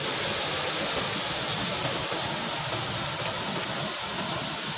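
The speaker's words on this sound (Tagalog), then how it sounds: "tila musika ang tunog ng lagaslas ng tubig rito" Constant rushing water, a broad steady roar like a stream flowing over rocks, close and unbroken throughout.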